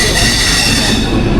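Passenger train departing Gaya Junction, a loud, steady rumble of wheels and carriages heard from on board, with a faint squeal of wheels on rail and no talking.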